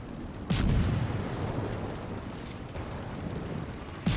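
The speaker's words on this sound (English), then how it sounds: "There is a torpedo hit" A torpedo hit in the World of Warships naval game lands as a heavy booming impact, followed by a sustained deep rumbling roar for several seconds, then another sharp blast at the end.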